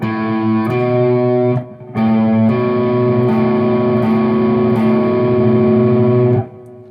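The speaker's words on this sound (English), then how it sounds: "The next sound is a major second." A distorted electric guitar plays a major second interval, two adjacent notes struck together and sustained, repeated a few times with brief breaks, then cut off; loud, gritty and unaccompanied.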